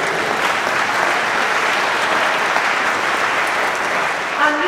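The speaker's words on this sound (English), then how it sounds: "you can clap for that" Audience applause during a bishop's address to a church conference, a full, steady wash of many people clapping loudly and evenly throughout, with a brief voice near the end.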